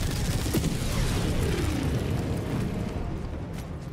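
Mortar blasts and rumbling impacts from the video game Helldivers 2, a dense, loud, continuous roar of explosions and booms filling the whole stretch with no clear gaps.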